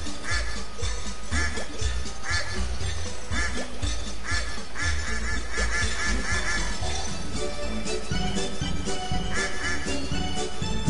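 Ducks quack in the fairground area of the Roblox game Bubbleworks, a steady stream of repeated quacks over dense, continuous background music that runs the whole time.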